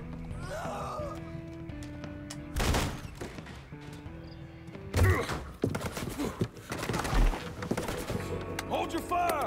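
Gunfire in the video game Mafia 3: several sharp shot bursts and a flurry of rapid shots, loud and close, over a running game soundtrack with occasional grunts.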